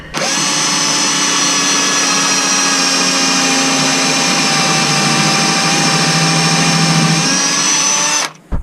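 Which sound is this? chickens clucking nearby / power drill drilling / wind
power drill drilling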